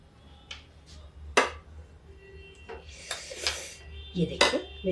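A pressure cooker and steel pots are handled in a home kitchen while cooking stuffed bitter gourd, with several sharp metallic clanks and clinks scattered among quieter scraping, close and fairly loud against a quiet room.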